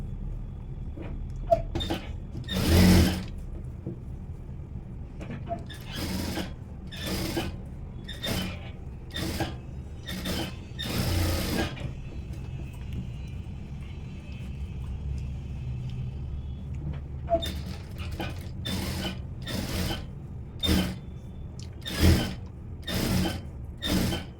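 A sewing machine runs along the edge of a princess-cut blouse lining with a steady mechanical whir and rumble, broken by frequent sharp clicks and knocks as the fabric is handled, close by and with no speech.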